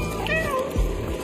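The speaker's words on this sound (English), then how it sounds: "there's a dedicated meow button that I rarely stopped pressing." A cat meows in the video game Stray: a single drawn-out, rising-and-falling meow, close and clear over a low background hum.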